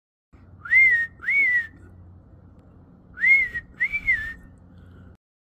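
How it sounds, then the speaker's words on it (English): A person whistles a feeding call to birds at a bird feeder in two pairs of rising-falling notes, clear and close, with a pause between the pairs against quiet background hum. "come-to-eat whistle for the birds"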